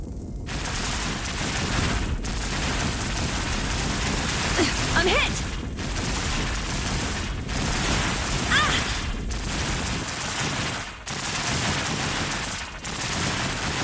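Continuous gunfire bursts and explosions from a mech combat video game, loud and dense throughout with brief gaps, under scattered voices.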